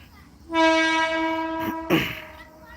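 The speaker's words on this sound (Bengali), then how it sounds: "আবার একটা লোকাল ট্রেন ঢুকছে" A local train's horn blares in a long, loud steady tone at a station, then a sharp burst of hissing noise follows as the train pulls in.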